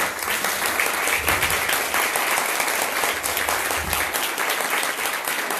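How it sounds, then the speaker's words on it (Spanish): Steady, dense applause from a sizable audience, continuous and even throughout with no voices standing out. "Un aplauso para los panelistas"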